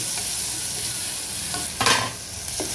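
Steady sizzle of garlic paste frying in a pan for bitter gourd stir-fry, with a couple of brief stirring scrapes and clinks; no voices.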